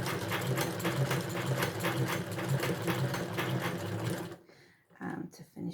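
Old non-electric hand-cranked sewing machine stitches a handbag with a steady, rapid mechanical clatter for about four seconds, then stops, leaving a few soft handling knocks.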